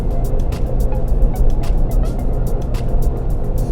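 A Suzuki Jimny with old gear ratios labours up a hill, its engine droning loud and steady from inside the cabin with constant road and wind rumble and no talk.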